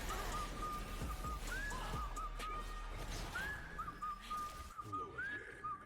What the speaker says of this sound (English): Who is whistling in my goddamn ear?